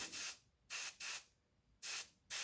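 Aerosol spray paint hisses in four short bursts with pauses between them during touch-up on the edges of a model AMT Freightliner dump truck cab, close and fairly quiet, with no talking.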